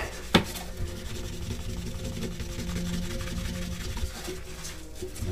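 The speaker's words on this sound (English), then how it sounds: "If I have a little powder of the graphite on here, it's not a problem. And then start buffing it." A metal part is buffed by hand with graphite powder, producing a continuous soft rubbing and rasping friction at close range after a brief initial knock, with no talking.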